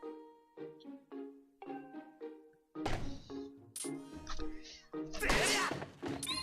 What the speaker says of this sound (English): Do a side slash on the log.